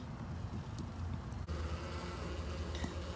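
Honey bees buzz inside a beehive at the syrup feeder, a faint, continuous droning hum with a slight rustle and no voices.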